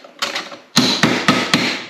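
A hammer strikes metal in a home garage while work is done on a hot rod mini truck: a few lighter taps, then four loud, evenly spaced blows ringing close up.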